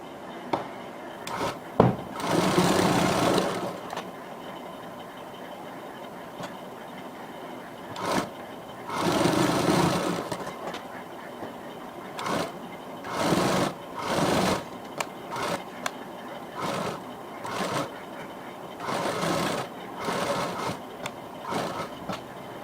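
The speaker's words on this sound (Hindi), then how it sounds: "अब हम यहाँ किनारे पे सिलाई लगा देंगे और इसको दबा देंगे।" A sewing machine stitches the edge of a small Barbie doll frock in short repeated bursts of whirring, close and clear, separated by brief pauses.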